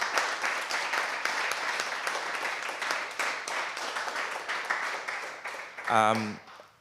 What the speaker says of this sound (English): give a huge round of applause to Ben and Thomas